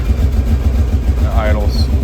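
A 2003 Kawasaki Prairie 650 ATV engine idling after carburetor cleaning, a close, steady low pulsing chug with a person talking over it.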